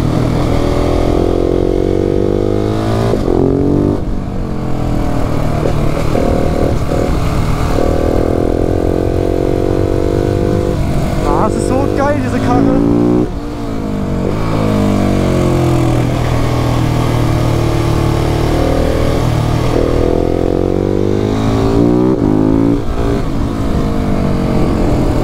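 A KTM 690 SMC-R single-cylinder supermoto is ridden uphill through a string of curves. The engine note is loud and close, rising and falling as it revs up, shifts and eases off between the bends.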